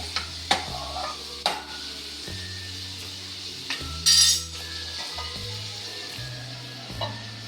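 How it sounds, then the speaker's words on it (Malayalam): Onion and coconut pieces being stirred in a frying pan. A spatula clinks and scrapes over a low, steady hum and a light sizzle, with a louder rattle of metal midway. "നമുക്ക് ഇളക്കി കൊടുത്തിട്ട് നമുക്ക് അടച്ചു വെക്കാം"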